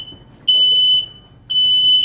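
Smoke alarm sounding while its test button is held down, giving two loud, steady high-pitched beeps of about half a second each, separated by a short gap, with no voices over them.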